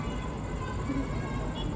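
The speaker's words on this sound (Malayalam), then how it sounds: "ഈ ട്രെയിൻ നേരെ പോണ ആലുവയ്ക്ക്" A train running on the railway line below a metro viaduct, heard as a steady, broad rumble with hiss that fills the whole moment at moderate distance, with no clear pass-by peak.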